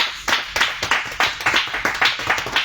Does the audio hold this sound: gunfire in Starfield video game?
no